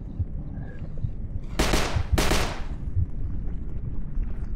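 Two dense bursts of rapid gunfire in the HordeZ VR zombie shooter, each roughly half a second long and separated by a short pause, loud over a low rumbling game background, with no talking.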